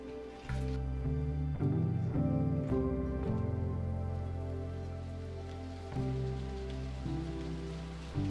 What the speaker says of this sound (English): It rained on my last night in LA